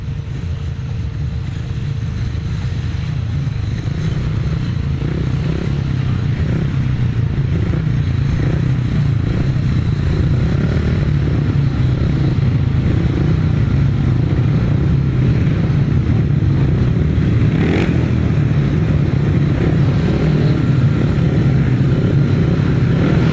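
500cc solo grasstrack racing motorcycles at the South Midland championships lined up for a leg start, a loud, continuous engine roar and revving from several bikes close by, steady throughout with no talk.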